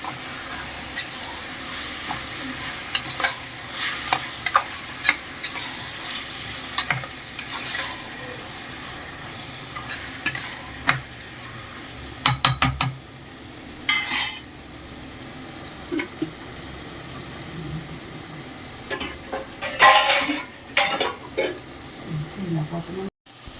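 Mutton curry stirred while cooking in a pot with yogurt, turmeric and ginger garlic paste, soft simmering sizzle punctuated by scattered scrapes and clinks of a spoon, with a voice talking over it.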